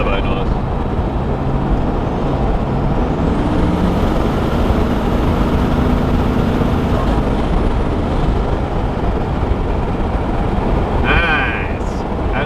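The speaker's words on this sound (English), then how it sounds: "Yeah, the actual turbo noise." A Nissan R31 engine fitted with new turbos revs loudly with a steady rushing roar and a rising whistle, close by, with people talking briefly near the end.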